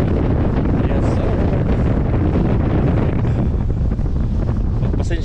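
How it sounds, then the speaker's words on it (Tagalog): Strong wind buffets the microphone in a loud, unbroken roar during a fishing trip in rough weather, with a faint wash of water underneath. "malakas po yung hangin."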